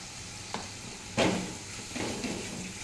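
Ginger and chilli paste sautéing in hot oil for a green-banana fritter curry: a soft steady sizzle broken by two or three brief scraping stirs, close and fairly quiet.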